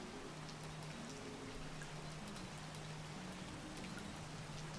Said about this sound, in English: Be careful about the rain here.